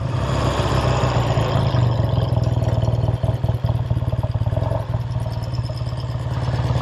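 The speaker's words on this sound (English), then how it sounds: "Very good sounding parallel twin, 500cc air cooled unit motor." A 1969 Triumph Daytona 500cc air-cooled parallel-twin motorcycle with dual carbs idling, a loud, steady, lumpy mechanical putter close up with some valvetrain clatter and a few brief dips in the beat.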